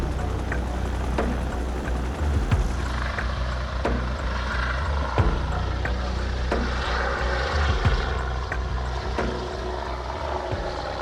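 A helicopter hovers low over a small canoe among trees, a loud continuous rotor roar with heavy low rumble and faint periodic thumps, steady throughout with no voices.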